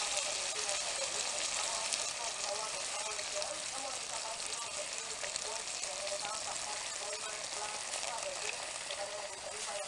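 Fish frying in a pan with black beans being added, a continuous crackling sizzle at moderate level that holds steady throughout.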